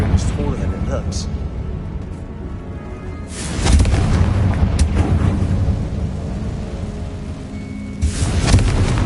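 Confringo blasting spell from the video game Hogwarts Legacy going off indoors, a heavy booming burst that swells at about three and a half seconds and again near the end, over a continuous rumbling game soundscape with voices in between.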